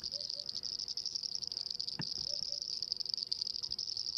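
A steady, loud, high-pitched trilling chorus fills the African bush at dawn, with a few faint bird calls early on and a brief soft knock near the middle.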